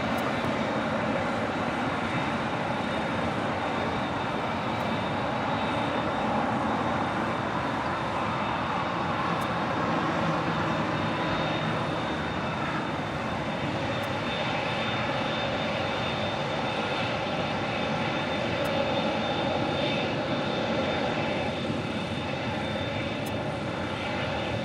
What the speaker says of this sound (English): The Big Q, Qatar Airways, the A350-1000, flight 39 Charlie